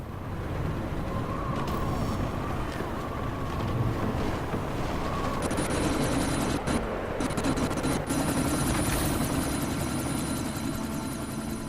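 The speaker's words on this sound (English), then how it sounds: "you need to disable that chopper" A helicopter drones through a sandstorm in the video game Deus Ex: Mankind Divided, its steady rotor roar blended with gusting wind noise and a few sharp mechanical hits toward the end.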